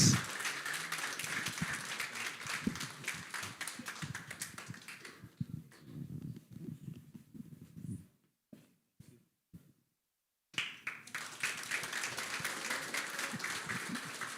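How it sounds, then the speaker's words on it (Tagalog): Congregation at a Jesus Christ the Deliverer Church service in Dubai claps for Reverend Cid Cruz, a dense patter that thins out midway and drops to near silence before resuming at full strength. "Malakas na palakpak nga kay Reverend Sid"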